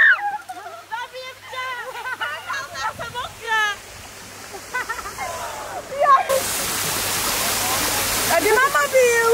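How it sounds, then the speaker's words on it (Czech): People splash about in the water near a waterfall during a band's music video shoot, a loud rushing wash of water rising in the second half while several people chatter and call out over it. "Šplechajte sa s vodou."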